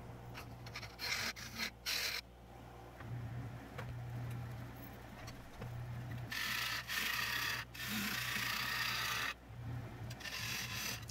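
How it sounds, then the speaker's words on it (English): A bowl gouge cuts a tenon on a pine bowl spinning on a wood lathe, giving quiet, intermittent rasping scrapes over a steady low motor hum. "Now I'm going to work on making my tenon, so I can flip it around"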